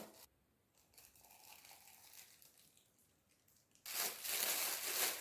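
A plastic freezer milk bag crinkles as it is pushed into a cup in a kitchen, with soft rustles that give way to a louder, sharp crinkling burst near the end, close by and without talk.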